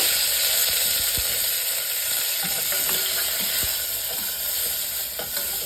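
Chopped garlic and asafoetida sizzling hard in hot oil for tempering, a loud continuous hiss close up with occasional small pops and a few stirring clicks.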